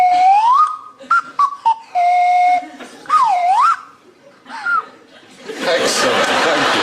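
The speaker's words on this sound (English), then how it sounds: "We've given our panel, yes, a selection of fully renewable wind and calorie-powered woodland whistles to attract my attention." A woodland whistle blown repeatedly in short bursts and warbling swoops, loud and near, with laughter and chatter breaking out at the end.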